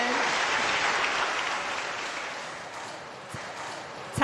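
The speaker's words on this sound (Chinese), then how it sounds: "让我们用掌声感谢江昌宇所带来的表演" An audience applauds after a stage performance, producing a dense, close burst of clapping that slowly fades over a few seconds.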